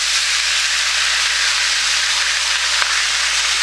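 Meat browning in a pan for homemade goulash gives a loud, continuous sizzling hiss that stays even throughout, with no talking.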